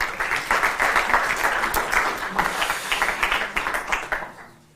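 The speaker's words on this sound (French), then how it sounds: "Vous pouvez l'applaudir." Audience at a live debate on European trade policy applauds a guest, with steady dense clapping throughout that fades out at the end.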